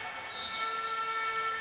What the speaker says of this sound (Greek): και σφύριγμα φάουλ στον Παπασταραφιανό